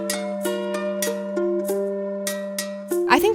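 Late-game ninja level music from Yoshi's Crafted World, a sparse video game tune with a steady low drone and repeated bright percussive plinks in an even rhythm, ending in a brief busier flourish.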